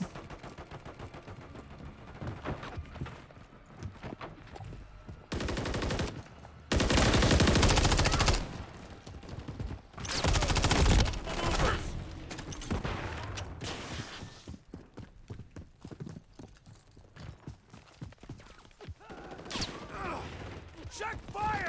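Gunfire in the MW3 open beta multiplayer, with bursts of automatic rifle fire and single shots mixed with weapon handling clicks, one long, loud burst in the middle, and game voices calling out over the action.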